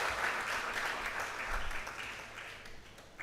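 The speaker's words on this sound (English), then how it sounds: "can we kindly give him a hand of applause?" An audience at a democracy forum applauds an honoree with steady, dense clapping that stays fairly soft and slowly fades toward the end.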